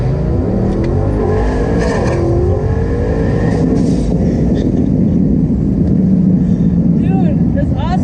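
Big-turbo Jeep Grand Cherokee SRT8 making about 1400 hp, launching and accelerating hard, with a loud, sustained engine roar rising in pitch and heard from inside the vehicle over voices.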